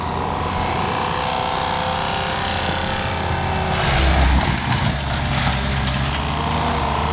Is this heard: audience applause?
no